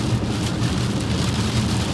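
Heavy rain drums steadily on a BMW M3 Competition, a constant, dense patter heard from inside or right beside the car, on a rural Pennsylvania road.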